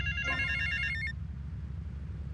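Payphone ringing in GTA Vice City Remastered: a short electronic trill of bell tones that stops after about a second, over a steady low game ambience.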